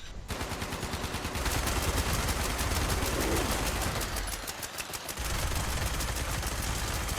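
Gunfire in the Fallout 76 video game during an assault on an Enclave base in Ohio: loud, rapid bursts of automatic weapon fire rattling almost continuously, with a brief lull midway before the shooting resumes, no voices over it.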